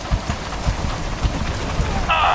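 Pouring rain in the video game X-Com: The Bureau, a steady close wash of rainfall with low rumbling thumps underneath, heard alone without talking.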